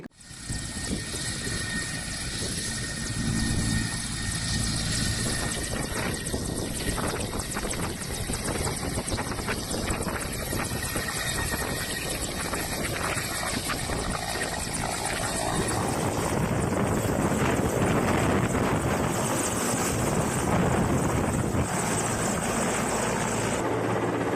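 An Indian Air Force Mi-17 helicopter ferrying voting machines and polling teams to election booths gives a loud, close, continuous rotor and engine roar that runs unbroken and swells in the second half, with no talking.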